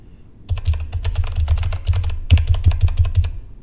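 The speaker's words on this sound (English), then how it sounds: "And here's a test with them on, with the dampeners on." Rapid typing on a mechanical keyboard fitted with Cherry MX Blue switches and rubber O-ring dampeners, close steady bursts of clicky keystrokes with slightly softened bottom-out, alone without voices.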